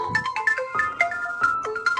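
A phone ringtone plays as a bright, repeating electronic melody of short tonal notes, fairly loud and clear with no talking over it, set in a Kannada comedy short film.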